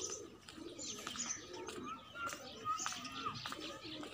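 Pigeons coo and chirp steadily over a busy outdoor background, with soft murmuring and faint distant voices throughout.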